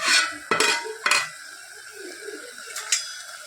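A metal spoon stirs kane jeera bhaji greens in a cooking pot, giving a few sharp clinks and scrapes against the pot, then softer shuffling, close and fairly quiet, with no talking.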